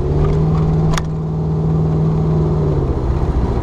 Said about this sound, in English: Hear the four barrel kick open. This old 440's got plenty of power.